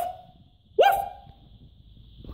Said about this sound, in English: we got this stupid dog over here. He's a big one.